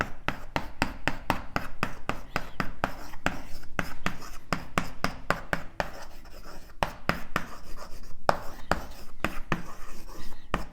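Chalk or marker strokes on a board as an equation is written in an advanced cosmology lecture, a quick run of sharp scratchy taps and rubs, close and fairly quiet.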